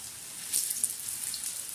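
Coriander, garlic and green chili fritters made with three flours sizzle softly in hot oil, a faint steady crackle with a few sharper pops, no voices.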